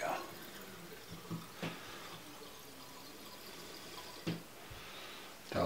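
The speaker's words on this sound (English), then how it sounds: "just fill it up with clean water" Clean water being poured into the small reservoir of a carbide bicycle lamp, a soft continuous trickle with a few faint clinks and bumps, heard close and quiet.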